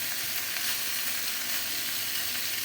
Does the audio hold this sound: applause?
no